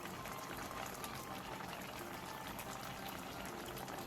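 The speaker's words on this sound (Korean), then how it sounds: "물이 끓어오르면 중약불로 줄여 10분에서 15분 정도 더 끓여주세요." Water boiling in a pot while vegetables simmer for a Korean side dish, a steady broadband bubbling and rolling hiss that stays constant and close throughout, with no talk.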